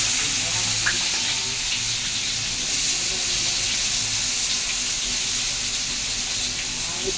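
Onions frying in hot oil in a pan give a dense, continuous sizzle that stays loud and even throughout, close to the microphone.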